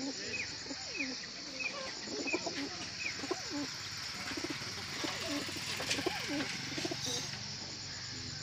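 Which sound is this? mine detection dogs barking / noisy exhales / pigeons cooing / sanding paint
pigeons cooing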